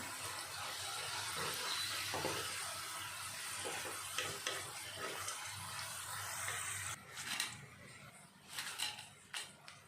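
Potato chips frying in hot oil, a dense continuous sizzle and hiss, joined later by bursts of stirring and scraping as they are moved about; no speech.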